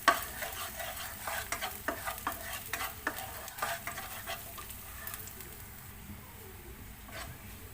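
Garlic and egg sauté in a pan, a faint, fairly distant sizzle with a flurry of light utensil clicks and scrapes early on that thin out into a quiet hiss.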